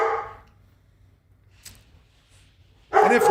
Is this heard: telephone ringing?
no